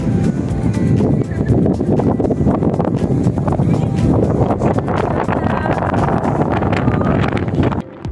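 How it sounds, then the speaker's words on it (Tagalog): Strong wind buffeting the microphone on a mountaintop at Igtuble, Tubungan, Iloilo, a loud continuous roar with gusty rustling throughout, dropping off abruptly near the end. "Grabe, kabaskaw kang hangin"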